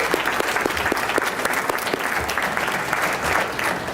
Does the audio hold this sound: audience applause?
yes